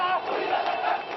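Protest crowd on a street in Dhaka, Bangladesh, during a strike, a dense continuous roar of many voices shouting together, loud and close throughout the short stretch.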